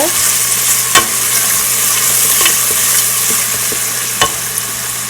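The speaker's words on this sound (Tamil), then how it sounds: "எல்லாத்தையும் நீங்கள் நல்லா கிளறி வதங்க விடுங்க" Ingredients for mutton biryani being stirred and sautéed in a hot pan, a steady sizzle with a low hum beneath and a few sharp scraping clicks of the spoon against the pan.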